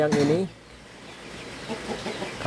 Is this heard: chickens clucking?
yes